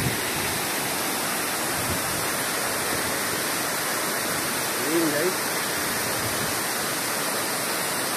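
A waterfall in Serra da Canastra, Brazil, roars steadily and loudly throughout, a constant broad rush of falling water, with a brief spoken remark partway through.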